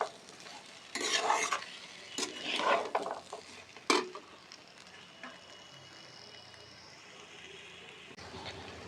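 Peas stir-fried with spices in a pan for a vegetarian broccoli dish: a spatula scrapes and stirs in a few brisk bursts over a low, steady sizzle, with a sharp clink of metal partway through.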